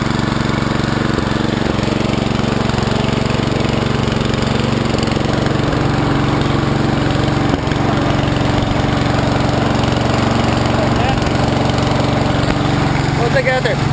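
A vehicle engine runs loud and close while doing donuts, a sustained droning hum with steady low harmonics and little variation in pitch, with voices speaking over it.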